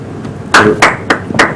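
Four sharp, loud hand claps spaced irregularly, close by, from an audience at a televised comedy show, standing out against a quiet background.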